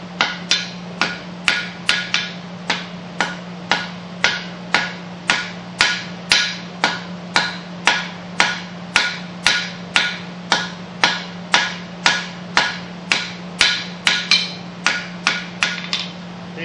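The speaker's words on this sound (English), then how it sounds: "Now my hammer blows are coming from out here, from this way." Steady, rhythmic hammer blows ring out as steel is forged on an anvil for a knife, about two strikes per second, loud and close over a constant low hum.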